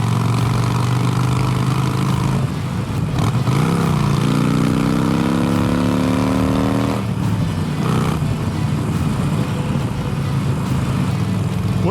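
A Harley-Davidson Iron 883 motorcycle fitted with a new exhaust rumbles steadily while riding, its deep engine note rising as it accelerates through the middle and dropping back, loud and continuous with wind noise.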